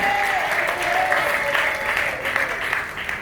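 A church congregation applauds and cheers, steady dense clapping with voices rising through it, loud and continuous for a few seconds.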